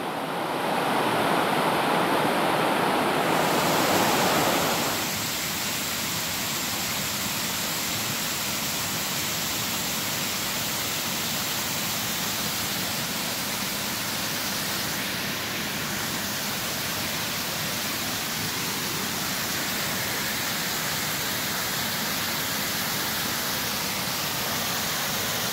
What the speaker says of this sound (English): There's where it goes over and becomes Lost Creek Falls.